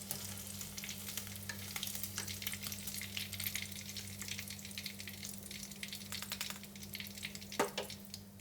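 Galangal fried chicken pieces sizzle steadily in hot frying oil, a dense continuous crackle and spatter with occasional louder pops, close and alone with no talk.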